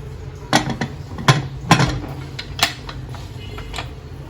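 Several irregular hard clanks and knocks of washed potatoes dropping into a metal pressure cooker, spaced unevenly over a few seconds in a quiet kitchen.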